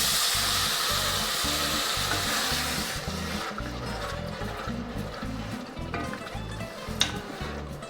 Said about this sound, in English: we're gonna add our diced tomatoes, the whole can with the juice,